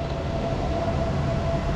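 Steady rumble of a train at an old railway station in Thailand, on the route from Bangkok toward Chiang Mai, with a sustained tonal whine running over continuous low mechanical noise throughout.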